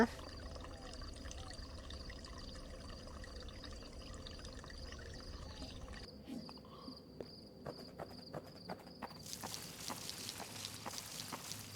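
Water trickling in a nighttime pumpkin farming video game, a steady soft watery wash under insect and cricket chirps, with a shift partway through to sparser clicks and drips.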